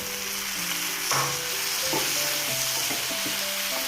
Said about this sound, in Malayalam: നന്നായിട്ട് ഇളക്കി കൊടുക്കാം മുരിങ്ങാക്കായയിലേക്ക് മസാലകളൊക്കെ പിടിക്കണം